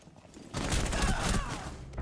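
Burst of gunfire in the tactical shooter Rainbow Six Siege, a dense rapid volley of shots lasting about a second and a half at close range, loud against faint game ambience.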